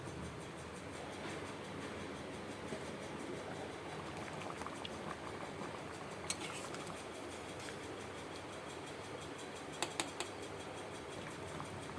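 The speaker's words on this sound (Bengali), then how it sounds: "আঁচটাকে কমিয়ে আমি ঢাকা দিয়ে পেঁপে আর ডালটাকে সেদ্ধ হতে দেব।" Moong dal and raw papaya simmering on low heat in a covered pot: a faint, steady bubbling hiss throughout, with a few tiny clicks and no voices.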